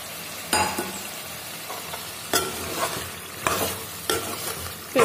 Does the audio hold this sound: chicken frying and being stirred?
yes